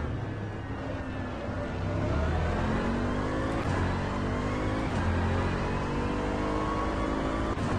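McLaren GT3 race car in rFactor 2, engine revving hard through gears with rising whines and quick drops on shifts, loud and close, with other cars' engines audible around it.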